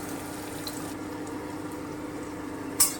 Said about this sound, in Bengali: এবারে আমি কুচনো পেঁয়াজটা দিয়ে দিচ্ছি।